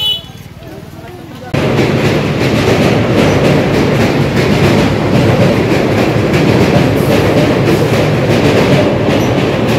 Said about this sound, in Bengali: আমার উপরে রয়েছে রেল ব্রিজ